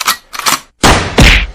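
Gunshots in a comedic Indian army versus Pakistan army skit: four loud, sharp bangs in close succession, the last two heavier and more booming, with no talk over them.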